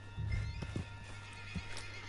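Horse in the Red Dead Redemption 2 video game gives a loud, close whinny, followed by a few clip-clopping hoof steps and a second short snort, with no talking.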